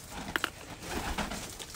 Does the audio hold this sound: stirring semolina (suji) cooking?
no